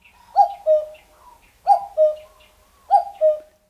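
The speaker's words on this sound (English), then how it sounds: "This is a recording from the website eBird, not of the cuckoo spotted in New Hampshire." A common cuckoo calls its two-note cuckoo phrase three times at an even pace, each falling pair clear and fairly close against a quiet background.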